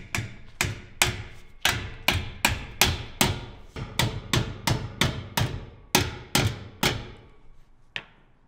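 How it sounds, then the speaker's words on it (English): Sharp metallic hammer blows ring out one after another in a steady, close rhythm, about two per second, each with a brief ringing decay. "Just a little hammer, you know."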